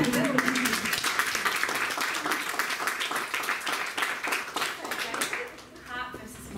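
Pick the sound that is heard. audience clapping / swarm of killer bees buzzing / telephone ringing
audience clapping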